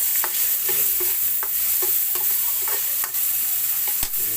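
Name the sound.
simmering chicken with tomatoes in a pan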